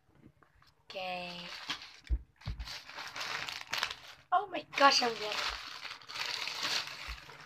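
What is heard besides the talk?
opening a squishy package with scissors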